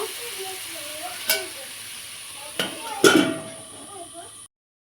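Potato kulcha sizzles and fries in a pan with a soft, steady hiss, broken by a few brief scraping or clinking touches before the sound cuts off.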